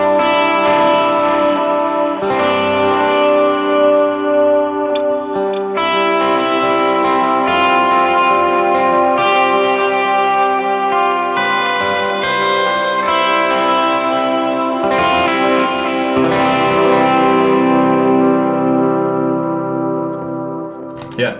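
Sustained electric guitar chords swell and wash into each other through two stacked delays and Glitz reverb, creating a dense, echoing ambient drone played alone.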